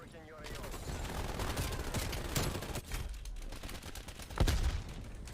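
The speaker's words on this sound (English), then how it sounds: "Multiple hostile sentry turrets working your AO." Automated sentry turrets open up in a Call of Duty match, a dense run of rapid gunfire bursts that stays loud and steady for several seconds, with one sharper, heavier crack near the end.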